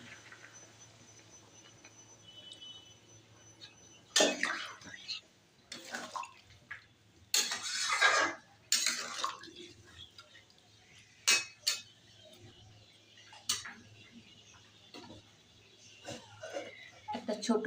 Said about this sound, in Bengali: উষ্ণ গরম জল দিয়ে দেবো।